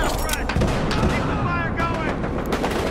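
Dense, rapid gunfire in the video game Battlefield Hardline, bursts of shots stacked in a busy firefight with booming low impacts, loud throughout, while voices shout over it.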